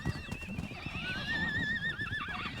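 Polo horses, bred with a high share of thoroughbred blood, neigh loudly and close by in a long wavering whinny, with hoof clops and stable noise underneath.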